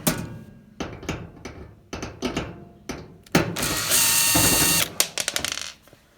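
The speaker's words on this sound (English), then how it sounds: "You take the screw out." A screw being removed from the back of a Samsung dryer, with a series of sharp ratcheting clicks in short bursts, then a sustained whirring buzz from a power driver, close up.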